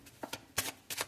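A Cigano (Lenormand) card deck is shuffled in four quick, crisp riffling bursts, close and fairly soft, with no talking.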